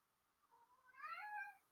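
A house cat meows indoors, one rising, drawn-out call that swells over about a second, quiet and fairly close, with no other sound around it.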